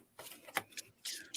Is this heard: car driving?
no